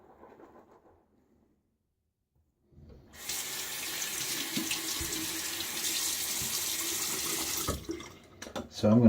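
Water runs from a tap while shaving, starting after a quiet pause as a loud, steady gushing stream that holds for several seconds before cutting off, with brief talk at the start and a clatter at the end.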